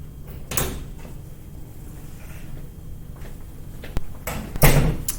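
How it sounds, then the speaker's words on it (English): Door closing indoors in a lecture setting, with several soft thuds and clicks spread across the clip, then a louder knock and bump near the end against quiet room tone. "So, I gotta shut the door."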